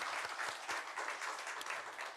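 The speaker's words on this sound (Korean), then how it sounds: "우리 하나님께 영광의 박수 올려드리겠습니다" A church congregation at a Korean Sunday worship service applauds. The clapping is steady and dense, sounds like a room full of people, and runs throughout without any voices.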